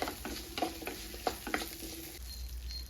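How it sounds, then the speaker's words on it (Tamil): Spices and onion fry in hot oil for a village-style ground fish curry, a steady close sizzle broken by several soft scraping stirs through the first two seconds, then a quieter even crackle. "இது நல்லா வறுபட்டு வாசனை வருது"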